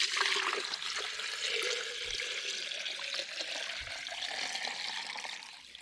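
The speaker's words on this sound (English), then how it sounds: "I'm going to fill it with water up to the same point, and then I'm going to pour it into this jug." Water is poured from a bag with a hole broken in its bottom into a jug, a steady, soft splashing trickle that carries on throughout and fades slightly at the end, with no voices.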